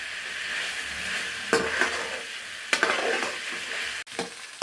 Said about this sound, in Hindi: थोड़ी तेज़ आंच पर फ्राई करेंगे ताकि जल्दी से फ्राई हो जाए।